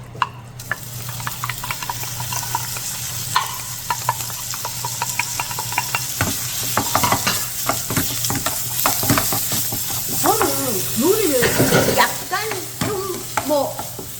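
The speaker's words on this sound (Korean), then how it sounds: "그러면서 자 소고기를 먼저 볶을게요." Lean beef stir-fried in a lightly oiled pan crackles and sizzles with irregular scraping and tapping of the utensil, growing busier toward the end, where a voice talks over it.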